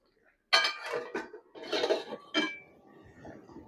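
Metal clatter of a lid being set onto a cooking pot of mango candy on the stove, a few sharp clinks and scrapes in quick succession, close and alone.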